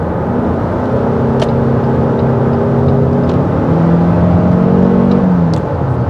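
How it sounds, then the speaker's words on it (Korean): Engine hum from a 2024 Toyota RAV4 PHEV plug-in hybrid SUV while driving in charge-hold mode, a steady droning whir with layered tonal lines heard from inside the cabin, continuous and moderately loud. "엔진 소음에 대해서는 그렇게 답답하고 예민할 정도는 아닙니다."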